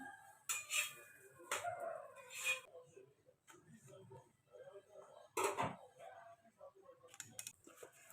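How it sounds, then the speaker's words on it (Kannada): Chapati and potato curry being packed into a small tiffin box, with scattered clinks and knocks of the container and utensils, broken up by brief bursts of speech in between. "ಈಗ ನಾನು ಚಿಕ್ಕ ಒಂದು ಕಟ್ಟಬೇಕು ಡಬ್ಬಿ"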